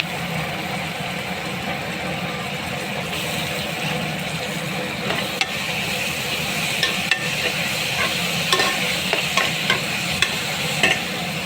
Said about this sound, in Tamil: இதெல்லாம் உப்பு போட்டு நல்லா வதக்கணும்.